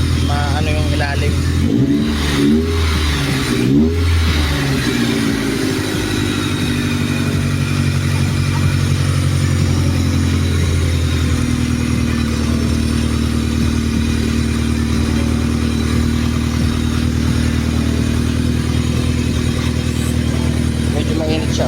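A Mitsubishi Lancer GSR engine runs up close during a radiator water flush, with a few sharp revs early on settling into a steady loud idle drone while people talk nearby.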